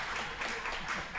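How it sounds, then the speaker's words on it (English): Brief burst of audience clapping at a live Enneagram talk show, a dense, steady patter of many hands that fills the whole moment without a break. "You can clap."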